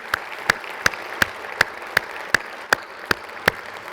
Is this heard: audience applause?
yes